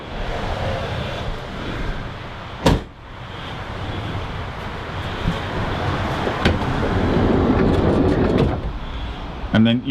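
The back door of a Nissan NV200 Combi campervan swings shut with a sharp, loud thump, followed by a few lighter knocks amid steady background noise.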